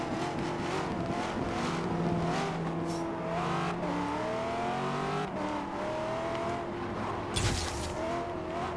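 A car engine in Forza Horizon 3 runs steadily and revs through gear changes during hard country driving, with brief tire noise and a sharp burst near the end, loud and continuous without talk.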